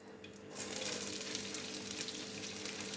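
Capsicum dropped into hot oil in a pan sizzles loudly, a sudden bright hiss that starts abruptly and carries on steadily with crackling spits, close up and alone.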